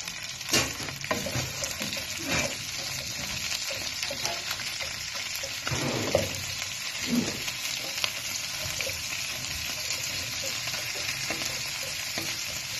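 Shrimp, boiled in Sprite, frying in a pan with browned garlic, a continuous close sizzle with scraping stirring noises throughout.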